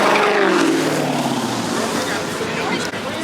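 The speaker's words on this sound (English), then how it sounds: "Fucking street races in Mexico" Street-racing car in Mexico revving its engine, a loud, close, continuous roar that swells and holds for a few seconds under crowd noise and chatter.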